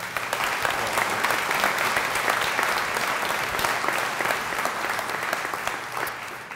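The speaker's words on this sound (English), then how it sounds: "Round of applause." Sustained applause from a large audience at a graduation ceremony, a dense wash of clapping that stays steady and loud for several seconds with no speech over it.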